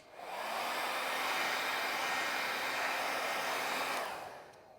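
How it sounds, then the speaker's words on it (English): A hair dryer blows steadily to dry clear coat sealer on a Range Rover leather seat, a loud, even whooshing roar with a faint hum, running about four seconds before switching off. "So now we need to dry the clear coat sealer again."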